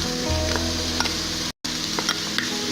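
Chopped onion sizzles steadily in hot oil alongside ginger and garlic, a continuous close frying hiss with faint occasional ticks and a brief dropout midway.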